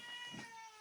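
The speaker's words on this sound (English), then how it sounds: "that's my cat" A house cat gives a single short meow, faint and somewhat distant over a steady background hum, with no talking during the call.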